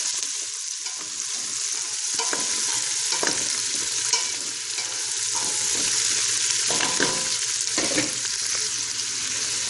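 Aromatics sizzle steadily in a soup pot over hot bacon grease, with a few scraping stir strokes cutting through the continuous frying hiss.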